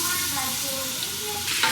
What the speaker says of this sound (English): Now we're going to saute the onions.